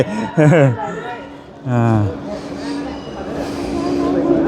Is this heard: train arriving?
yes